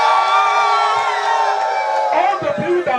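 A large indoor audience at a company leadership event screams and cheers loudly and continuously, with shouts and whoops rising at the end.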